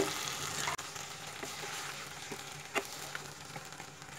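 Hilsa fish pieces frying with spices in a pan, giving a steady broadband sizzle with occasional light clicks of stirring, no voices.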